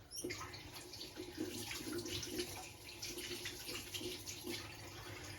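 Tap water runs into a sink while silicone food containers are washed under it, a continuous close splashing stream with small irregular sloshes and handling noises throughout.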